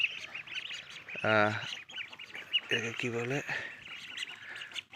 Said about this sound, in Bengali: এখানে দুইটা বেজিং হাঁস